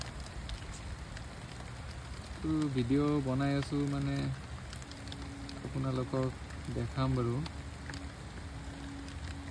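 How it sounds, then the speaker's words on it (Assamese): Steady rain patters on the leaves of a Syzygium tree in a garden, a continuous hiss running throughout while a person talks over it in several bursts. "ওপৰে ওপৰে পানী পৰি আছে, পাতত পানী লাগি আছে"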